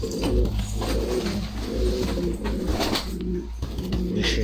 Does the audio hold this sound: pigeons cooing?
yes